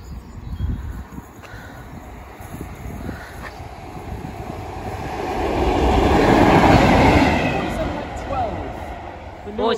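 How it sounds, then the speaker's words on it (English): A train passes a level crossing at Saxilby with a rumbling clatter that swells and fades, loud and close, as voices talk over it. "Train approaching, everybody."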